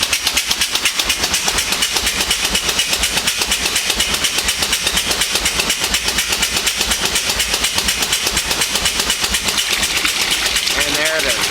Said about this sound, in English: Now it's dumping into this bucket and being pumped from this bucket into that tank.